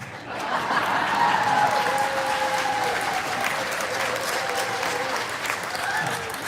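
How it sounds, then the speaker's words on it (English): A warm round of applause from a concert audience at a live country music show, steady clapping with a few whoops and cheers and light chuckles rising over it. "Can we get a nice round of applause for myself?"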